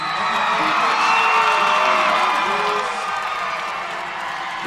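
A large crowd at a 1A girls state basketball championship between Tabiona and Panguitch cheers steadily, a dense wall of shouts and whoops that eases slightly toward the end.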